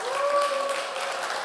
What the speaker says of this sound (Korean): 한덕택 선생님을 여러분 큰 박수로 모시겠습니다.